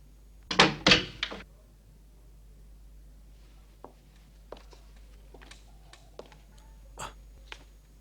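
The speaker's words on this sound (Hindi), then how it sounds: "दरवाजे को क्या हुआ?" In a film scene, a door gives two loud close knocks or bangs, followed by scattered faint taps and clicks in a quiet room.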